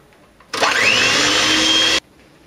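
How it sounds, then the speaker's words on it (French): An electric hand mixer whirs steadily as it beats apple-cinnamon cake batter of eggs and sugar until pale and foamy, starting abruptly with a rising whine, running loud and even for about a second and a half, then cutting off. "À l'aide du batteur électrique, vous mélangez le tout jusqu'à obtenir une pâte bien blanche et mousseuse"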